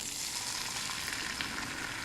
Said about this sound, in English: And I'm adding the egg mixture.